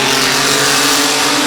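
Stock cars racing at Midvale Speedway during the fall classic, with loud, close engines roaring as a car spins its tires amid the pack, a dense, unbroken wall of sound.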